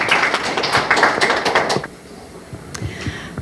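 Applause from a seated church audience of pastors and organization leaders, a dense burst of clapping that fades out after about two seconds, followed by a few scattered claps.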